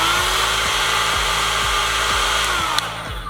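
A Conair InfinitiPro or Hot Tools hair dryer volumizer brush runs with a steady, close, whirring motor hum and airflow hiss, with soft rhythmic ticks and a small click near the end.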